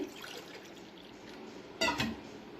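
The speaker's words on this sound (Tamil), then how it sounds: "எந்த கப்பில் நம்ம ரைஸ் எடுத்தோமோ அதே கப்பில் நம்ம நாலு கப் அளவுக்கு அளந்து தண்ணி சேர்த்துக்கலாம்" Water is poured into a pressure cooker while sweet Pongal is being made: a brief splashing pour lasting a few tenths of a second near the end, over a steady low hiss.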